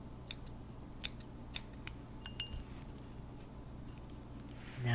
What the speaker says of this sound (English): Let's snip away and let that go now.